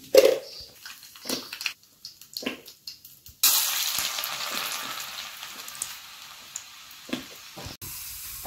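Tempering spices crackle and sizzle in hot oil for Telugu mango dal, first in brief sputtering bursts, then a loud steady frying hiss that slowly fades with scattered pops.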